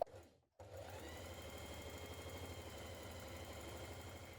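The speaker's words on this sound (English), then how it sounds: "Now you can do 2 rows of gathering stitches if you wish." A domestic sewing machine running a steady, continuous whir as it sews rows of gathering stitches for a blouse ruffle, close and even after a brief silent pause at the start.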